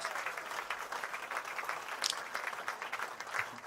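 A canned applause sound effect plays during a budget knife discussion show, a steady crowd clapping at moderate level throughout with no speech over it.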